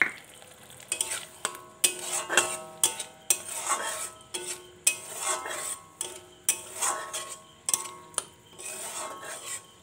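Spices stirred and sautéed in a pan for paneer rezala, a spatula scraping across the pan in repeated strokes roughly every half second, each stroke over a soft sizzle, close and fairly quiet.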